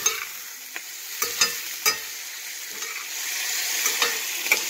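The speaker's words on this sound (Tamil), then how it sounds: "ஆனியன் இஞ்சி பூண்டு சோம்பு பட்டையில நல்லா வதங்கிடுச்சு" Onion, ginger, garlic, fennel seeds and cinnamon sauté in a pan for a mushroom semi gravy, crackling in a loud close sizzle broken by several sharp spatula knocks and scrapes.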